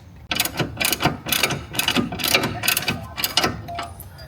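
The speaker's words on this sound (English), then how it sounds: "we're going to take an 18mm socket and unscrew this sway bar end link right here on the bottom" A ratchet with an 18mm socket loosens a sway bar end link on a BMW X5M during a lowering spring install, giving a run of rhythmic clicking pawl bursts, close and fairly loud, with no talking.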